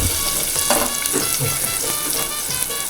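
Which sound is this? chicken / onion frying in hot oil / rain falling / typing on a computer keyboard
onion frying in hot oil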